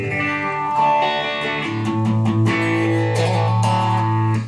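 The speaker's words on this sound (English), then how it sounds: "Then from there, I'll go into the phaser" An electric guitar playing held chords and notes through a slow phaser pedal, its sustained tones gently sweeping, loud and clear with no talk.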